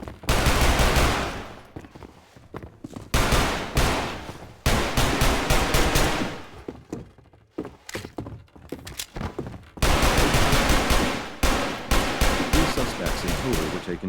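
Bursts of gunfire in a Half-Life 2 shootout between Civil Protection officers and shotgun-armed rebels, loud and close, coming in dense volleys with short pauses between them.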